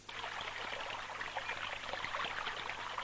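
Water flows over rocks in a stream, a continuous soft burbling and trickling with gentle splashes, heard fairly faint and steady throughout.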